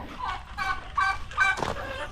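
Chickens on a small farm cluck in several short, close bursts over a quiet background.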